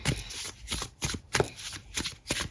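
A tarot deck is shuffled by hand in repeated close riffles and slides, a steady rhythm of about six bursts, with no talking.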